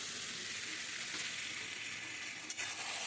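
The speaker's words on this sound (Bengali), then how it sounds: "এবার খুন্তির সাহায্যে খুব আস্তে আস্তে লোটে মাছটা নাড়াবো।" Loitta fish with potato and eggplant sizzles in hot oil in a pan while a spatula slowly stirs it, a steady close frying hiss with a soft scrape near the end, no talk.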